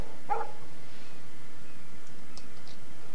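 A single short dog bark in the game Life Is Strange, coming early and standing out briefly against a quiet, faint background.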